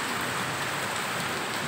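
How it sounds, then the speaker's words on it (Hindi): Steady rain falling, a dense even hiss of drops with no voices, constant and fairly close throughout. "बारिश"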